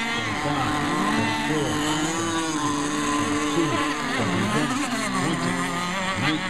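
Hydroplane racing boats run their engines in a steady, loud, layered drone that holds for several seconds, with a voice faintly heard beneath.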